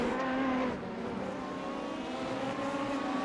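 Race cars in iRacing, a mixed field of LMP3, GT4, GTP and LMP2 prototypes and GT cars, driving in a close train, their engines droning steadily and loud throughout with no talk.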